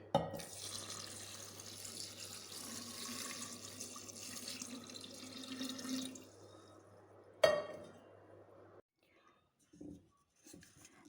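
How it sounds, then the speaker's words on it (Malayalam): Boiled and cooled water is poured into a container of chikoo wine ingredients, a faint steady splashing stream for about six seconds, followed by a clunk and quiet soft voices. "ഇനി തിളപ്പിച്ചാറിയ വെള്ളം ഒഴിച്ചു കൊടുക്കാം"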